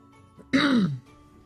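A single short throat clearing, close and fairly loud, lasting about half a second in an otherwise quiet setting.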